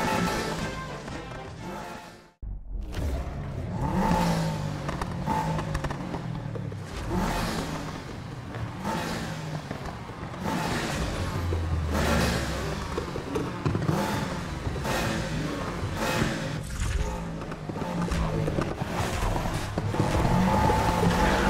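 A Subaru Impreza GD street-racing car in Need for Speed Heat roars through a race, its engine revving hard with rising and falling pitch through gear changes over continuous loud road noise.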